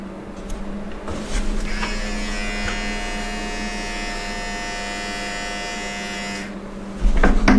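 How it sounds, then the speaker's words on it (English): An electric shaver runs on a head in a steady, close, loud buzz for several seconds, preceded and followed by brief handling knocks. "How do I shave my head right now?"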